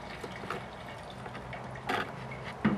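Fuel system cleaner glugs and trickles softly into the fuel tank of a 1994 Toyota 4Runner, a faint pouring sound with a few small splashes near the end.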